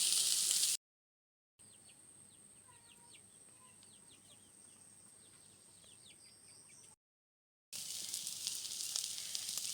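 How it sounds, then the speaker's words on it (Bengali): Potato, egg and okra frying in a pan, a steady sizzle running through the whole clip, loud at the start and end and softer in the middle, with a high constant tone and faint bird chirps behind it. "আলু ডিম ঢেঁড়স দিয়ে ভাজি করা।"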